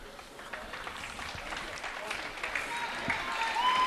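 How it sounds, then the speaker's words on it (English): Applause from the crowd at a high school girls' basketball game, a steady wash of clapping that builds gradually in loudness over a few seconds, heard alone without talk. "A nice round of applause."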